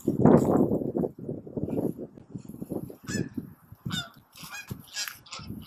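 Migrating geese honk in scattered bursts at a wintry stopover, some loud and near, others fainter, with a low rumble of movement underneath and no talking.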